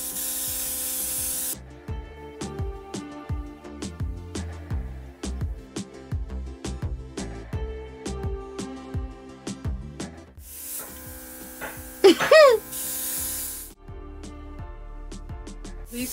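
Airbrush spraying make-up in short repeated hissing bursts, close and fairly loud, with a brief squeaky sound near the end and no talk.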